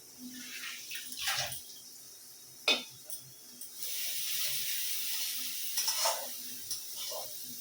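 Steady sizzling of onions frying in oil in a pan, with a few sharp scraping stirs of a spoon against the pan.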